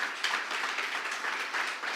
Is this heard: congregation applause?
yes